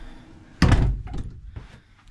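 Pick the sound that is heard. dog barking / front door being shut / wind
front door being shut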